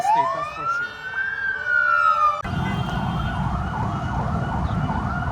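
Emergency sirens sound in Saida, Lebanon, after an airstrike: a loud rising and falling wail close by that gives way to a faster repeating warble over the low rumble of road traffic.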